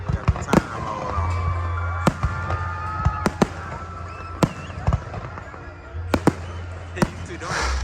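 Fourth of July fireworks at Schofield Barracks in Hawaii burst repeatedly, sharp booms and crackles spaced every second or so, with people chatting and reacting nearby between the blasts.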